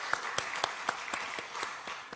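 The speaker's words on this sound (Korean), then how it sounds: "우리 축복하는 마음으로 박수 한번 쳤으면 좋겠습니다." Church congregation applauding together, a fairly quiet, steady patter of claps with a few sharper individual hits standing out, heard alone for a couple of seconds.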